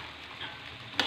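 Potatoes tipped into a hot pan of chicken curry set off a brief burst of frying sizzle, with a sharp crackling flare near the end of the short moment.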